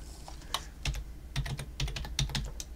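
Keystrokes on a computer keyboard tap out a quick irregular run of light clicks, close and clear over a quiet background hum.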